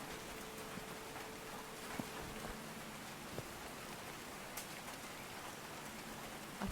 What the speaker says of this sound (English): It's pretty rainy, isn't it?